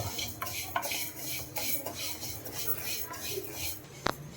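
Horse gram roasting in a pan while being stirred, repeated scraping and rattling strokes of a spoon against metal with light dry clinks, close by, and a brief sharper clack near the end.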